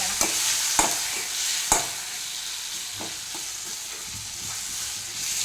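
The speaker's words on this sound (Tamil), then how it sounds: "இந்த வெங்காயத்தையும் தக்காளியும் போட்டு நல்லா கிண்டி வச்சு கோல்டன் ப்ரௌன் ஆகிக்கலாம்" Onions and tomatoes sizzle steadily in a hot pan over a high flame while a spoon stirs them, with a few sharp scraping knocks against the pan at irregular intervals, close and fairly soft.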